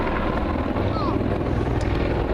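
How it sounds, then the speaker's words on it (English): An Apache attack helicopter, a 10-ton machine, performing at the Duxford Air Festival, producing a loud, steady rotor and engine roar with gusting wind noise across the whole stretch. "the 10-ton helicopter can be flown back over its right shoulder through 360 degrees."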